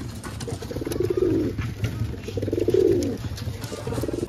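Pigeons in a loft coo close by, two soft rounded coos rising and fading over a low steady background hum, with faint rustling between them.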